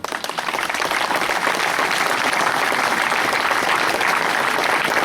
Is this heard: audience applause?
yes